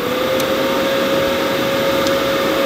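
A YesWelder MIG 205DS welding machine powered on and idling, giving a steady fan-like whir with a constant electrical tone, close and unchanging for a few seconds.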